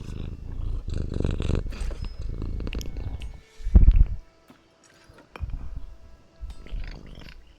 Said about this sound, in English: Little bit of purring. Just a little purr.